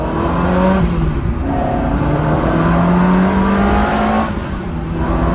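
Ferrari 360 convertible engine pulling hard on the road, a loud, close, high-pitched wail rising through the revs with brief gear-change dips, no talk over it.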